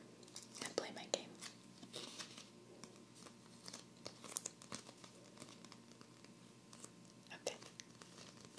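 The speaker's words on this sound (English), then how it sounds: "These cards need to be shuffled before I play my game." Oversized playing cards being shuffled and handled in a soft ASMR setting, giving crinkly, papery riffles and scrapes that come in uneven bursts, close and quiet, with occasional faint whispery breaths.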